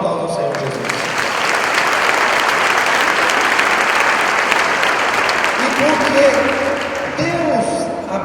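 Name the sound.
church congregation applause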